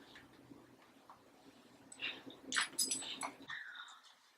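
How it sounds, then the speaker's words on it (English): A pet dog named Lexi whimpers and yips softly near a yoga blanket at home, a string of faint, high, whiny cries rising briefly before trailing off, close but quiet. "Okay, trying to accommodate my dog."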